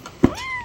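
A pet cat at home gives a single short, rising meow just after a soft thump, fairly close and alone against quiet room noise.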